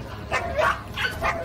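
Small dog yapping in a comedic animal clip, a few quick high yips and barks spaced across a second and a half, fairly close and lively, with no talking over them.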